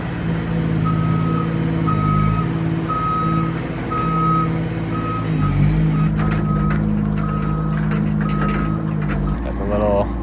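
Steady repeating reversing beeps from a lift truck with outriggers as it drives, over a continuous engine drone, with someone talking nearby.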